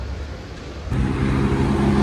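A faulty Yamaha Aerox scooter engine hums steadily, then jumps louder and rougher as the revs pick up, holding a loud, close droning tone.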